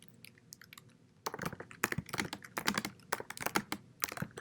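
Keystrokes on a computer keyboard typing a short commit message, starting quietly and then coming as a brisk, close run of clicks with uneven rhythm and no voice.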